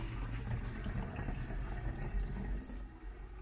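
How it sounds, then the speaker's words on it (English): Water drains through a newly fitted kitchen sink plug and waste pipe, a close gurgling, rushing flow that stays continuous with small fluctuations and no talk over it. "you can hear the water running through there"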